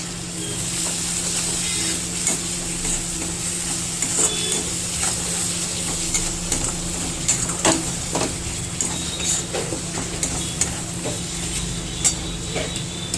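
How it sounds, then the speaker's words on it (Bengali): Spice masala of coriander, cumin and chilli powder fries in oil for a rohu fish curry, a continuous low sizzle broken by repeated clinks and scrapes of a spoon stirring against the pan, close and without speech. "এবার ভালো করে মশলাটা নেড়ে নেব।"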